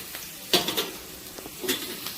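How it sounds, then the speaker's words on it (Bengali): Shredded cabbage and carrot fry in a pan with a soft sizzle, broken by a few clinks and scrapes of stirring, quiet and close. "শুধু এখন ভালো করে ভাজতে হবে এই বাঁধাকপি আর গাজরটা"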